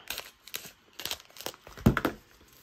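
A paper craft kit package is cut open with scissors, giving a quick series of close crinkling snips and tearing rustles, ending in one louder crunch.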